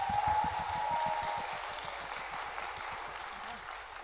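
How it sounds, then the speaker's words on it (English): Audience applause for readers at a live book festival panel, steady crowd clapping with a low-pitched murmur running under it throughout. "Round of applause for all the readers."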